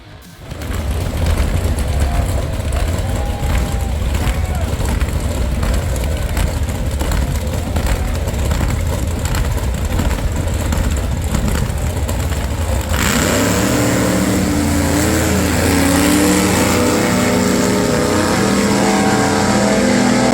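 Loud, close engine roar from a fuel altered drag racing car, holding steady and then shifting to a rougher, lower-pitched rumble partway through, with no talk.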